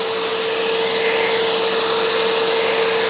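A Bissell ProHeat Essential carpet cleaner runs with its suction on, giving a loud, steady motor roar and whine with a high tonal hum. It holds constant throughout with no pauses.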